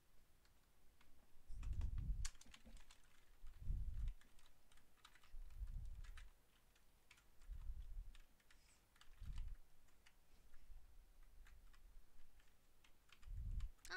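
Computer keyboard typing during a live game stream, steady clicks of keystrokes close to the microphone, broken by several dull low thumps, no speech.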